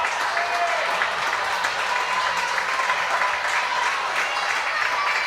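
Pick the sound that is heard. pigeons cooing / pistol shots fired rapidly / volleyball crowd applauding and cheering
volleyball crowd applauding and cheering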